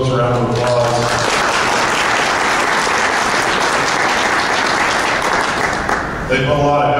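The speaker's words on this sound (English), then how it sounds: "We can give those folks a round of applause." A conference audience applauds the event's sponsors with sustained, loud clapping from a large crowd, beginning as a voice trails off and carrying on for several seconds before speech resumes at the end.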